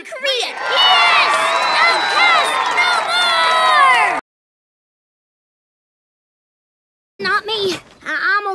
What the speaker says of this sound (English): give a big, bright middle school cheer for Libby!